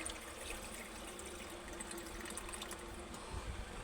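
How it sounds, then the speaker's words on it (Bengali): Water pouring into a cooking pot with boiled potatoes: a steady, soft, even splashing rush that stays quiet and constant throughout. "আমি আর একটু জল দিয়ে দিচ্ছি এর মধ্যে"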